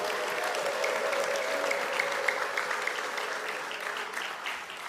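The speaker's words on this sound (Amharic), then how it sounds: "ለዚህ ጌታ እልልታና ጭብጨባ" Church congregation during an Easter sermon breaking into sustained applause mixed with a wavering high ululation, a large room full of steady clapping that holds for several seconds.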